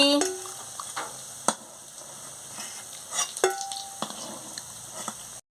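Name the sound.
soybean fritters frying in oil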